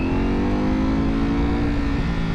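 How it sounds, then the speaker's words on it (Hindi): A Ducati V4 motorcycle engine with an expensive aftermarket exhaust roars steadily at high revs, loud and close, with a dense continuous growl and no other sounds. "V4 इंजन का साउंड इनलाइन 4 सिलेंडर से बहुत चेंज है।"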